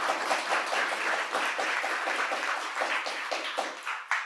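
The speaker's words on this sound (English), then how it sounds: "Can we give her a big round of applause?" A fairly quiet round of applause from an audience at a restorative justice talk, even continuous clapping that holds steady and swells slightly near the end.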